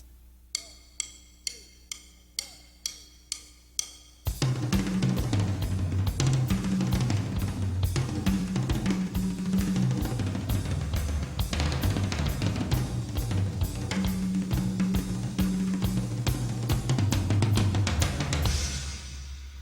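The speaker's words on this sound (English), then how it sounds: "this first lick is just going singles around the toms while the click is in a certain tempo" Sharp click-track ticks sound alone at first, then rapid single drum strokes roll steadily around the toms while the clicks continue underneath.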